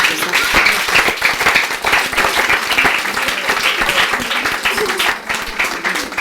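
A church congregation applauds in praise of the Lord, producing loud, sustained clapping from a large crowd that continues evenly for several seconds.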